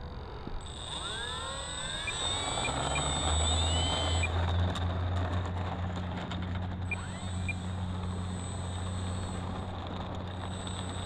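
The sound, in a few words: E-Flite P-51D RC model plane taking off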